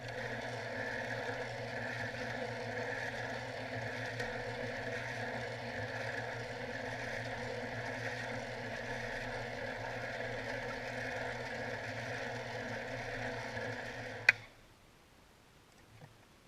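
A sphere machine polishes an obsidian orb on 1500 grit pads with a steady, even motor hum and faint ticking that runs for about fourteen seconds, then cuts off abruptly into near silence.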